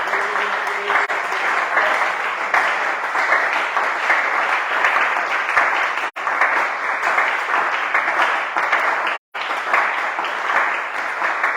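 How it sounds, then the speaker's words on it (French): A church congregation applauding and acclaiming, dense continuous clapping at full volume for over ten seconds with only two brief breaks, crowd voices mixed in. "Acclamons très fort le Seigneur Jésus"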